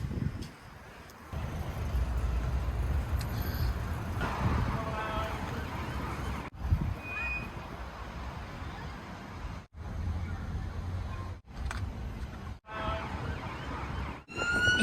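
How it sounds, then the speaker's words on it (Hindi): An ambulance siren wails through London traffic as cars stop to let it by, a steady tone over street noise with abrupt cuts, and a voice talks at times. "एम्बुलेंस आ रही है तो पूरी गाड़ियां कैसे रुकी हुई है।"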